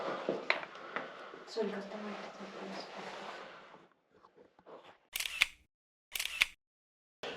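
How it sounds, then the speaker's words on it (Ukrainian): A camera shutter firing in a cave, a few crisp mechanical clicks in near silence after people talk, with a close double-click burst and a final single snap. "Краще зробити художнє фото"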